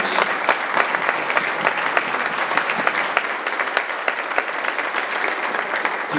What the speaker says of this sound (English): Another round of applause, please, for our outstanding seniors.